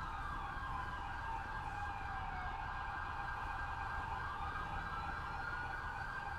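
An ambulance siren in the police-patrol mod LSPDFR for GTA wails steadily and loudly for several seconds, its rising and falling tones layered over a constant low road and engine rumble, with no talking.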